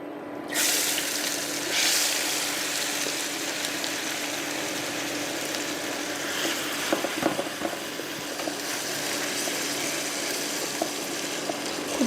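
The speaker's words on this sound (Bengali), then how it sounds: "এখন আমি মাছগুলো দিয়ে দিচ্ছি।" Marinated hilsa fish dropped into hot mustard oil, a loud, dense frying sizzle that starts abruptly and holds steady, with a few light clinks of a utensil.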